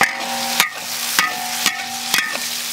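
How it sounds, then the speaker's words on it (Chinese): Long beans stir-fried in a pan with salt, ginger and chili, giving a steady close sizzle broken by three or four sharp spatula scrapes and knocks against the pan. "给它这样炒一下，加点盐"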